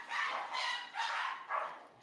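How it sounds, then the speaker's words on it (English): A dog barks four times in quick succession, fairly close and moderately loud, with each bark sharp and roughly evenly spaced across a short stretch. "Lena was barking."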